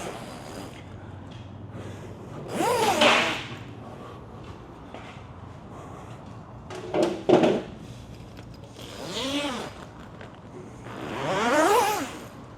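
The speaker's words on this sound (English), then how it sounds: "First, you want to take these zippers up." Zippers on a restaurant cafe awning enclosure curtain are pulled open in several separate long rasping strokes, each rising in pitch, with quiet handling noises between them and no talking.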